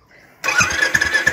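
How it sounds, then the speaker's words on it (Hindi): A Royal Enfield 500cc motorcycle starts: a brief, quiet starter whir, then the engine catches abruptly and runs on with loud, close, uneven thumping pulses. "चलिए मैं आपको स्टार्ट करके दिखाता हूँ।"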